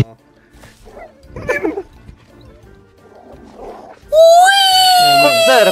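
A dog in the DayZ video game gives a few soft yips, then one sharp, loud, drawn-out bark or howl near the end, with someone talking excitedly before it.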